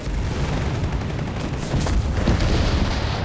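Artillery fire in the Company of Heroes 3 strategy game rumbles in a continuous, heavy barrage of booms and blasts. It stays loud and dense throughout, with no voices.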